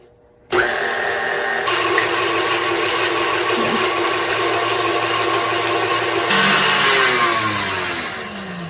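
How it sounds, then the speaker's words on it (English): Egg whites for eggnog being whisked with an electric mixer, a loud steady motor whine that starts abruptly and runs continuously, shifting pitch partway through and easing off near the end. "start whisking."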